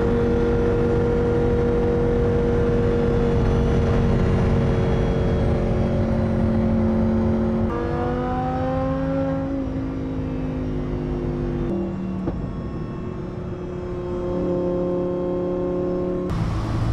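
Porsche 918 supercars rolling in a car cruise, their engines droning steadily with shifting tones as they accelerate and pass, some moderately near, with no talk over them.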